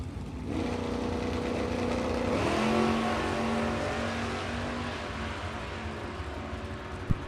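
Drag race run at a test and tune session between a red Chevy Malibu and a two-tone Chevy Camaro: loud engines roar and rise in pitch as the cars launch and pull away, a steady sustained drone fading slightly toward the end.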